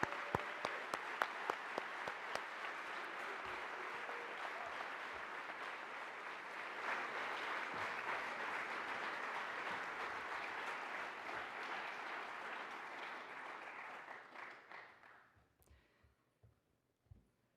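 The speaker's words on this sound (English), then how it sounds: "let's give her a round of applause" Audience applause at an evening opening ceremony, a dense steady roar of many hands that holds for over ten seconds before tapering off and fading out near the end.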